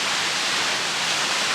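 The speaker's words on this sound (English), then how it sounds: "waterfall" England's biggest single-drop waterfall roars in a constant, dense rush of falling water, loud and close with an unbroken hiss and no voices over it.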